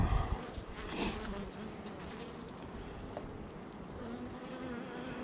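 Honeybees buzz in a dense, continuous drone at an open beehive in an apiary, faint and steady, with a slightly louder burst at the start.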